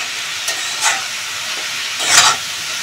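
Kolmi greens with prawns steaming in a covered pan with no added water give a soft, steady hiss, with a few brief louder bursts of steam and sizzle rising and fading, no talking.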